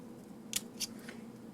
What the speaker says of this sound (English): I'm going to cut a couple strips off here to use